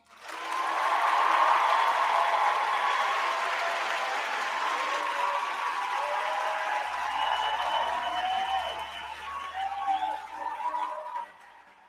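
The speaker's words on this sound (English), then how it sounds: "give a round of applause that we made it" A large crowd applauding at a church gathering, steady dense clapping that swells quickly and holds for about ten seconds before tapering off, with a few faint voices and cheers mixed in.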